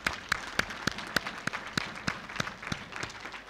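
Scattered applause at a university graduation ceremony in Nairobi, with a dozen or so distinct, sharp claps at an uneven rhythm, moderately distant and fairly thin, like a small group clapping rather than a full crowd.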